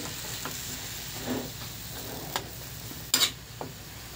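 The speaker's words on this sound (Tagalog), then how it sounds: "Ayan mga idol, ating halo para maayos ang pagkaluto." Sautéed chayote and carrot sizzle softly in a pan while a utensil stirs them, with a few light scrapes and clinks breaking through the steady frying hiss.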